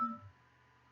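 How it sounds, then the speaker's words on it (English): A cell phone gives a brief electronic notification tone, a short bright beep that cuts off quickly and leaves a faint hum in a quiet room. "I'm sorry about my cell phone."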